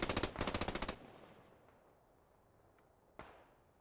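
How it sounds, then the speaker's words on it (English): Rapid machine gun bursts rattle loudly in the Post Scriptum combat game, a quick stream of shots at the start that fades into a distant rumble, followed later by a single sharper rifle crack. "just a little bit of rifle fire, machine gun fire here and there"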